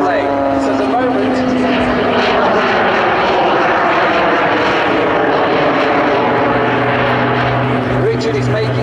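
A Pitts S2S aerobatic biplane fitted with jet engines flies a display at the Sanicole Airshow, producing a loud, continuous roar with a steady whine throughout.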